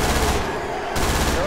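Shotgun fire in a co-op zombie video game, a loud dense blast of shooting that briefly cuts out and resumes, with continuous combat noise.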